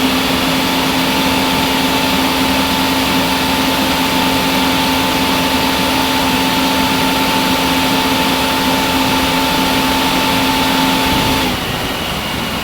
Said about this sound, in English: The PTO will engage and the engine RPM will increase to a high idle speed.